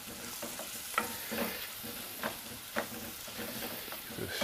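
Sliced mushrooms sauteing in butter in a hot pan, stirred with a utensil: steady sizzling hiss punctuated by repeated scraping and clattering strokes, close and moderately loud.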